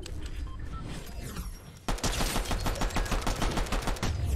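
Fortnite turret gunfire that erupts suddenly after a quieter stretch into a fast, evenly pulsing stream of loud, close automatic shots running to the end.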